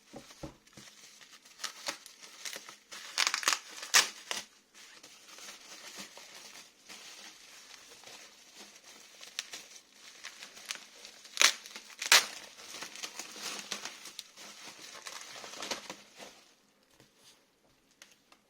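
Manga parcel being opened by hand, its packaging crinkling and crushing in irregular bursts of rustle, louder clusters standing out against a quiet room.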